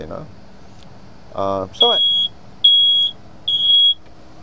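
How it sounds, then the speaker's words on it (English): Three sharp, high-pitched electronic beeps from a smoke alarm sound at even intervals, loud and close, after a short burst of voice. "That's a smoke alarm."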